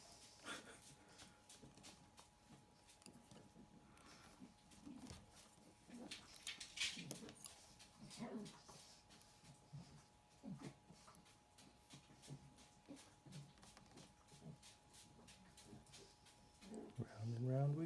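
Dogs whimper and snuffle in a room while a person talks over them and works on a mechanical rebuild, with faint, intermittent animal whines and shuffling noises under the voice.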